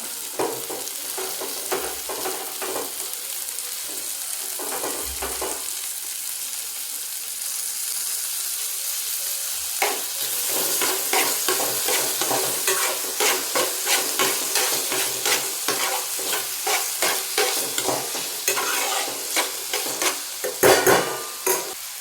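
Capsicum stir-fries in a pan for pasta, a loud, close sizzle broken by repeated scraping and clacking strokes of a spatula that grow busier and more rhythmic in the second half; no voices.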